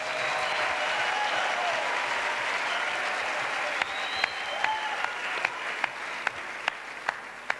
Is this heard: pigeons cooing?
no